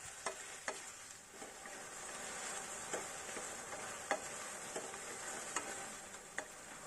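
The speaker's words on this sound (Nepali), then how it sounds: "अब टमाटरलाई राम्ररी चलाउनु पर्छ।" Salted tomatoes cooking in a pan for chutney are stirred, a steady soft sizzle with sharp little spoon taps and scrapes recurring every second or so, close and alone.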